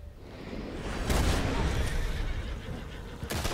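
A horse whinnies loudly in Red Dead Redemption 2 gameplay, amid a busy game soundscape with hoof clatter and a few sharp bangs. Faint voices are mixed underneath.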